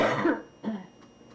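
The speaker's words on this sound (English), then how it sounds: "I'm coughing so much" An elderly woman coughs in a loud, harsh burst at close range, followed after a short pause by a second, weaker cough and faint throat sounds.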